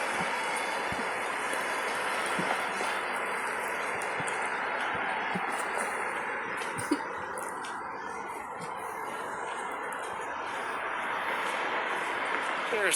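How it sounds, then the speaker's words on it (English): A streetcar tram runs along its rails past the listener, a broad continuous rumble and hiss of wheels with faint squeals and clicks, steady and moderately loud throughout under a busy outdoor wash. "There's the tram that killed the famous Spadina bus."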